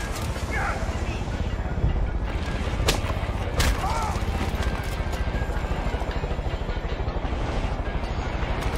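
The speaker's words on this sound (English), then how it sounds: "Crap, is that a chopper?" A helicopter in the video game Far Cry 5 throbs with a steady, rapid rotor chop beneath other loud game noise, with a couple of sharp impact bursts along the way.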